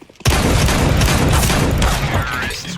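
Gunfire in the video game Counter-Strike: Global Offensive, a loud sustained burst of rapid shots that rattles on for over two seconds after a quiet start.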